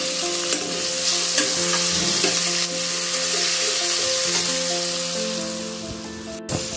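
Egg frankie roll filling sautés in a pan with pepper powder and curry leaves, a loud, constant sizzle broken by repeated spatula scrapes and stirring knocks, close up with no voices.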